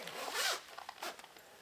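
A zipper on clothing is pulled closed in the setting of a Porsche 944 clear coat repair, a quick close raspy zip followed by a few shorter tugs and ticks, faint and without talk.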